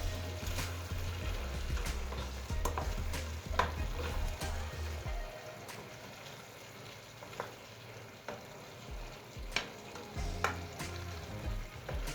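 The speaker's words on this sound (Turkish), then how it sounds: "Bu şekilde bir daha karıştırıyorum." A meat and potato sauté sizzles steadily in a pan while a utensil stirs it, with sharp scraping clicks scattered over the frying hiss, close and clear.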